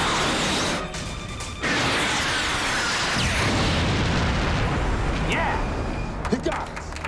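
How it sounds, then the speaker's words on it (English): Loud roaring rush of a missile launch followed by a heavy rumbling blast, dense and continuous throughout with a deep low boom building in the middle and sharp cracks toward the end. "Missile launch."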